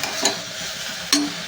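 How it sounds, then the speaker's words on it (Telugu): Broad beans and onions frying in a pan for a bean and tomato curry, with a steady soft sizzle and two short scraping stirs of a spoon against the pan, close and fairly quiet. "వేగాక అయితే చిక్కుడుకాయలు వేసి అవి కూడా వేగిస్తున్నాను"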